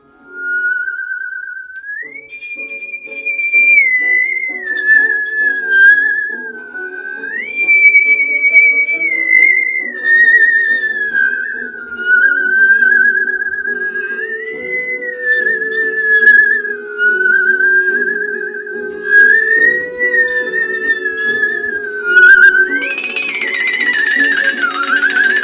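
Musical saw played in a workshop, a sustained wavering singing tone gliding between pitches in a slow melody, clear and alone throughout.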